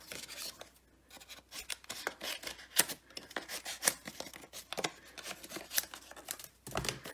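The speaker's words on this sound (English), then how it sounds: "I just need to cut this strip off." Scissors snipping a paper strip beside a craft punch during card-making, a run of close, crisp cuts in quick irregular bursts with brief pauses, no talking.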